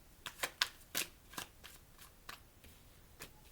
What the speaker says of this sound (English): I'm going to pull one more card and then we can start your reading